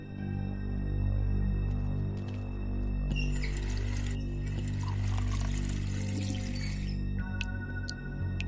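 Water poured in a kitchen in the video game The Wolf Among Us, a steady splashing stream lasting several seconds under a low humming background, followed by a few faint drips.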